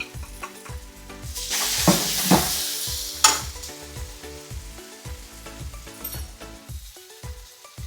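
Vegetables for a vegetable cutlet filling sauté in a pan with a constant close sizzle, broken by scraping stirs and light spoon-on-pan clinks, without any talking.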